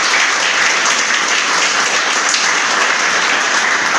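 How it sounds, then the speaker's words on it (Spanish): A church congregation applauds loudly and continuously, a thick, even wash of many hands clapping with no pauses. "¿Cuánto le da un aplauso al Señor?"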